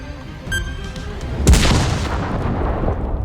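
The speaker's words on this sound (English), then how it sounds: "conducted an explosion test using a decommissioned DC-9's parts" An explosion test on parts from a decommissioned DC-9 airliner: a single deep, loud boom after a brief quieter stretch, followed by a long rumbling decay.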